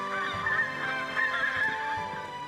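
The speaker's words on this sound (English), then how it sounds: "It sounds like a whole flock of geese." A whole flock of geese honks continuously, the calls overlapping loud and close, with no one talking.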